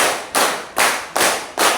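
A classroom of students claps in unison, four sharp group claps spaced evenly about 0.4 seconds apart, each ringing briefly before the next, close and fairly loud with no talking.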